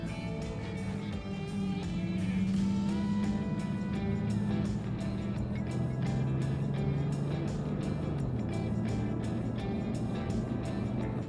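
A Toyota Tacoma with an aftermarket exhaust pulls out onto a highway, its exhaust drone holding steady and stepping in pitch as it accelerates through gears, moderate and continuous with no talk.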